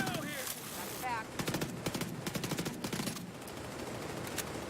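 Minigun fire in the video game The Division 2, a loud continuous rattling burst of rapid shots with a whirring tone near the start, under a busy mix of game sound.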